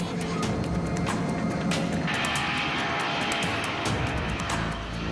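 Japan Airlines airliner at cruise, a steady broadband engine and cabin roar that holds constant throughout with no speech.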